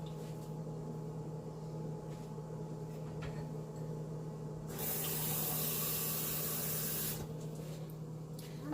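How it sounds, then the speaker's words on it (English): Water poured into a pot of Jamaican curry chicken on the stove, a hissing rush of liquid for a couple of seconds midway, over a steady low kitchen hum, with quieter sizzling before and after. "maybe put some water in the chicken"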